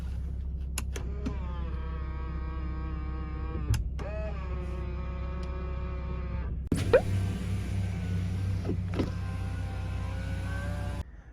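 Folding side mirrors on a Renault Samsung SM5 Impression whir as their electric motors run, one steady motor hum for about three seconds, a short pause, then further motor runs with a click, heard close with no talking.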